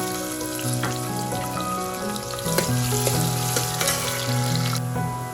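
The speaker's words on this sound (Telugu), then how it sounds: "ముందుగా నూనె వేడెక్కిన తర్వాత ఉల్లిపాయ వేసుకోవాలి." Chopped onions sizzle in hot oil for a mutton and cucumber curry, a constant frying hiss under a background of tonal music, with occasional louder spatters near the middle.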